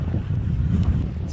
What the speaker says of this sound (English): It's actually kind of cold here because it's windy right on the water.